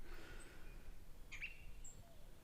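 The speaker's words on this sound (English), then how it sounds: "It is nice out and there's birds." Birds chirp outdoors during a morning walk: a few short, thin, high calls scattered over faint, quiet background noise, with no voices.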